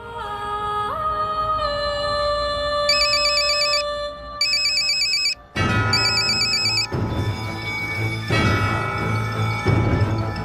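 A mobile phone ringtone for an incoming call plays loudly and steadily, a melodic electronic tune with repeating bright chimes that shifts into a fuller, busier section partway through, with no talking over it.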